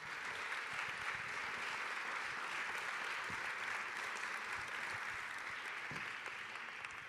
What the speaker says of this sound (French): Il faut absolument les applaudir.